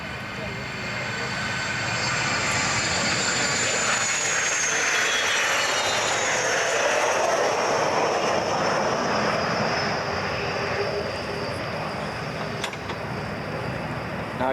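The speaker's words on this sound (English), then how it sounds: "I've been joined by the Saab 105 or the SK-60" A Saab 105 (SK-60) jet roars overhead at an airshow, a loud broad rumble swelling and sustaining across the whole stretch with a faint whistling tone, as a commentator speaks over the public address.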